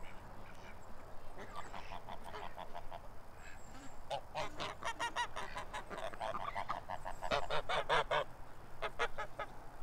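Young geese honk and ducks quack outdoors near a lagoon, with repeated clustered calls that grow louder and busier toward the end.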